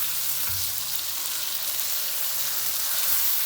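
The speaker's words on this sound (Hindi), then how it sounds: "ये बस हमारा प्याज ब्राउन हो चुका था और उसके अंदर अब हमने चिकन डाल दिया" Chicken pieces hit browned onions in a hot pan for a Sindhi biryani, letting off a steady, loud hiss of sizzling oil that holds evenly throughout with no talking.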